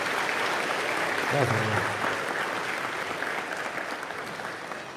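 A congregation in a church applauds for a brother, sustained dense clapping that holds steady and then slowly thins out, with someone speaking briefly over it.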